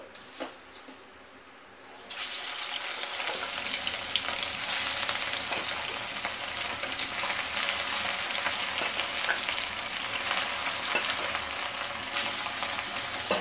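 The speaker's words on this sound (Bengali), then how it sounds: "তেল গরম হয়ে গেছে। এখন আমি মাছগুলো ভেজে নেব।" Katla fish pieces hit hot oil after a brief quiet start, bursting into a loud, steady broadband sizzle that crackles on without pause, no voices over it.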